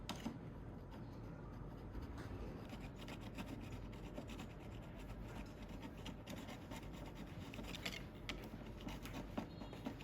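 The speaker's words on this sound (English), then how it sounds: "I'm using a utility knife to gently scrape it off without scratching the headlight" A utility knife blade scrapes gunk off a plastic car headlight with light pressure, giving a steady, close, continuous rasping and rubbing that carries on throughout with no talk.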